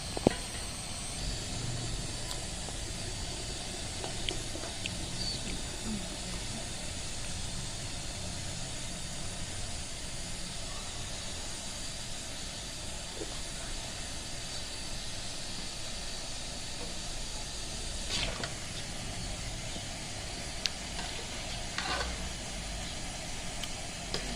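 Beef yakhni stock heating toward a boil in a pot gives a constant, even hiss and bubbling rush that holds steady throughout, with a few faint knocks.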